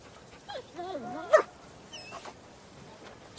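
A Malinois dog whimpers and whines in thin, rising and falling tones, faint and close against a quiet room hiss, with a brief sharper yelp among the cries.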